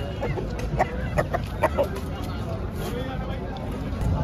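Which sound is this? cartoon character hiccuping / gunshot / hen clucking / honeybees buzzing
hen clucking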